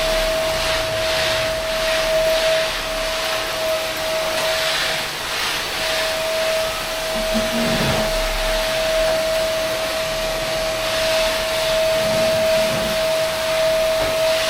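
A vacuum cleaner runs steadily during house cleaning, a continuous close whirring roar with a constant high motor whine and slight surges as it is moved around, with no talking.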